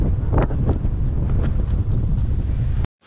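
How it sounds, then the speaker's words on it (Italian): Strong wind at Punta Larici above Lake Garda buffets the microphone in a loud, continuous roar with gusty bumps, then cuts off abruptly near the end. "qua c'è un vento della Madonna"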